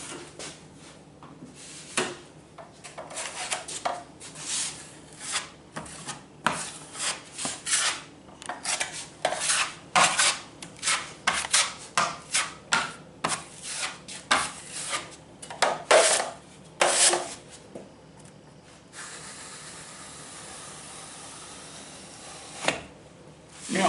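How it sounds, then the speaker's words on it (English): Drywall mud being scraped off a wall with a blade, a run of short rasping strokes in quick irregular rhythm, close and fairly loud, easing into a steadier softer scrape near the end. "Do a scrape first, get that clean."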